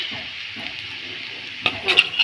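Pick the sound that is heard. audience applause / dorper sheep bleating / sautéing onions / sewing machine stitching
sautéing onions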